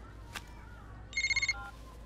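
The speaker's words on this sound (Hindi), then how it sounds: "क्या फोन?" An indoor telephone gives one short electronic ring, a rapid trill of pulses lasting about half a second, heard nearby over a quiet room hum.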